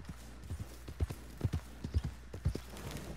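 Hoofbeats of a horse in the video game Red Dead Redemption: a steady clip-clop of soft, close thuds at an even trotting rhythm, heard on their own throughout.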